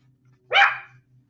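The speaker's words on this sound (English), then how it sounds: "Sadie Mae's barking over the lawnmower" A single sharp dog bark, loud and close, over a faint low lawnmower drone in the background.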